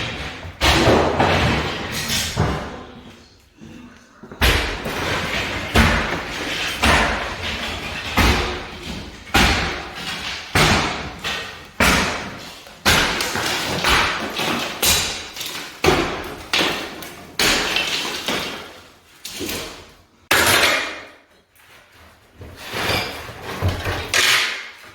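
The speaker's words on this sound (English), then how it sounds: "when we knock these walls down" Interior walls come down during renovation of a foreclosed house, with repeated loud thuds, bangs and crashes of impacts and falling debris in irregular bursts, some sharp, some trailing off.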